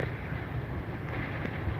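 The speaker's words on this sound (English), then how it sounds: "Zero visibility, winds are sustained at 100," Hurricane Ida's sustained winds of about 100 mph roar as a dense, unbroken rush of wind noise battering the microphone, with no talk.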